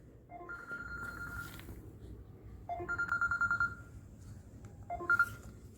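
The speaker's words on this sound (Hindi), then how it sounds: "उसको 2 बार एक ही साथ प्रेस करते हैं तो आपका फ़ोन जो है वो बोलने लगेगा" A phone ringtone set off by a double press of the Samsung Galaxy SmartTag button sounds in short tonal bursts, a longer chiming phrase, then a rapid repeated beep sequence and a final brief burst, close and clear with no talk.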